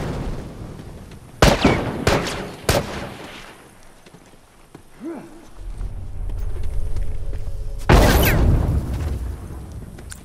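Grenade explosions in the video game The Last of Us Remastered, several sharp, loud blasts in quick succession, then a quieter lull and another heavy boom with rumbling tail.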